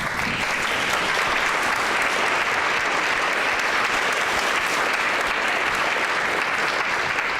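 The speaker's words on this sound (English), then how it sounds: "Michael Webb and Michaela Todd, would you stand up and let us give you a round of applause?" Sustained, dense applause from an audience at a general assembly fills the room at steady volume throughout, with no pauses and no talking over it.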